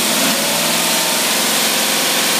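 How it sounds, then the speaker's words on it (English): A car engine idles steadily right up close, a loud continuous rumble with an even, fast pulsing texture and no voices over it. "He starts right up. Idles real smooth."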